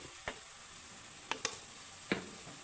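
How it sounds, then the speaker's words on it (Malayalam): Ground spices (turmeric, chili and coriander powder) sauté in coconut oil, a quiet even sizzle with a few sharp taps of a spoon against the pan. "ഇതൊന്ന് ഇതാക്കിയിട്ട് വെളിച്ചെണ്ണയിലിട്ടൊന്ന് പരട്ടാം നമുക്ക്"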